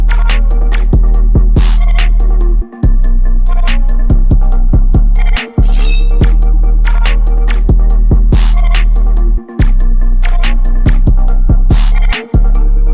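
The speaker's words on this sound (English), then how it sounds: "Let's keep it dirty like that," Hip hop beat driven by a dirty, distorted 808 bass that sustains heavily underneath crisp hi-hats and snappy percussion, loud and dense, with brief full drop-outs punctuating the loop.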